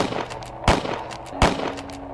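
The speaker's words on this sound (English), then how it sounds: "The loud gunshot made me freeze." Two loud gunshots ring out in the See How The Cat Jumps video game, spaced under a second apart, sharp cracks standing out over a steady background hum.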